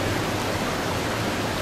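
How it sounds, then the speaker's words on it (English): Rushing water roars outdoors in north central Alabama, a loud, steady broadband wash with no pauses, close and unbroken for the whole moment. "I hope you guys can hear me over the roar of this water."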